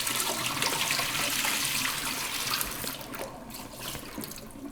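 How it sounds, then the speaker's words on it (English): Dirty water from soaked sprouting seeds is poured through a small sieve, making a steady splashing, trickling rush that runs continuously and eases slightly toward the end, close and fairly loud. "I get my nice little sieve and I just pour it out"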